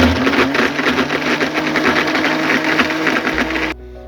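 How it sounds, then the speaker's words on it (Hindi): A blender whirs loudly and steadily while blending mint lemonade with ice cubes, with a constant motor drone for several seconds before it abruptly cuts off, leaving a low hum. "तो बस इतने ही आइस क्यूब मैं इसके अंदर ऐड करके इसको भी अच्छे से हम ब्लेंड कर लेंगे अगेन।"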